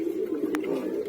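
Pet pigeons in a home loft coo softly and steadily at close range, a low murmuring drone running throughout with no talking.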